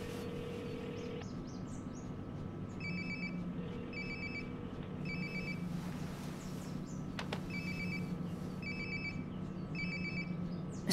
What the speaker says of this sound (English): Sounds like my phone is definitely